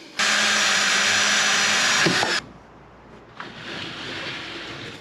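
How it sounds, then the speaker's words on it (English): A loud, steady whirring power drill drills down through the bottom during a sink and cooker install in a VW T5 camper, running about two seconds and stopping abruptly, followed by quieter background noise and a softer rushing sound. "we're just going to drill down the bottom"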